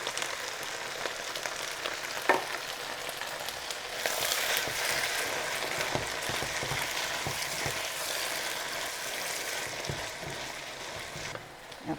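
Fresh tomatoes hit a hot pan for a budget meatball sauce and fry with a continuous close sizzle that swells as they go in. Crackles and light stirring clatter run steadily beneath it.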